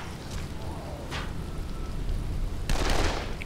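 Enemies firing guns in the zombie game Dead Island, a few sharp bursts of gunfire over a rough ambient din, with someone talking through part of it.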